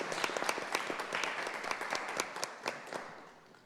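An audience at a Spanish-language poetry book presentation gives a brief round of applause, many individual claps blending into a steady patter that tapers off toward the end, heard at moderate distance.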